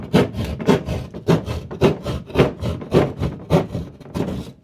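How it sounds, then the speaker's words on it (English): A jab saw cuts into drywall with about a dozen rhythmic push-pull strokes, each a coarse rasping scrape, close and fairly loud, with no talking. "So once again, we jab and we just cut"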